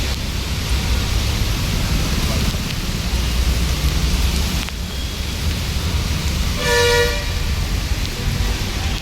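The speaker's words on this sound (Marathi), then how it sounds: "बापरे लय पाऊस" Heavy rain pours down in Pune with a loud, constant broadband hiss and a brief vehicle horn toot partway through.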